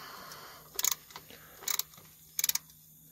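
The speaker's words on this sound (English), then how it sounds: "so get your socket on it. You should be able to loosen it up." Socket ratchet loosening an oil drain plug during an oil change, three short bursts of quick clicking close up, separated by brief pauses.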